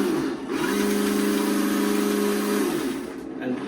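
A remote control car's small engine runs steadily at a high, buzzing pitch, holding an even note for a couple of seconds before dipping briefly and picking up again, loud and close.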